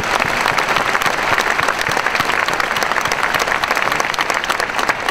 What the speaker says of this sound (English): I think he does deserve a round of applause.